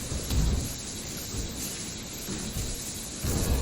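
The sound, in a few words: lightning skill attack in the video game Grim Dawn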